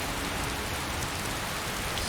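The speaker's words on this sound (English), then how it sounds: "Still coming down in torrents." Steady torrential rain pouring down in the Skyrim game world, a dense, continuous hiss of heavy drops beating on surfaces, loud and unbroken with no voices.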